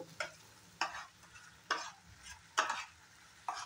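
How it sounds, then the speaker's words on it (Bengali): Spices frying in oil in a pan while being stirred, with soft scraping strokes recurring about every second over a low, steady sizzle, close and moderately quiet. "মশলাগুলো ভালো করে ফ্রাই করে নেব"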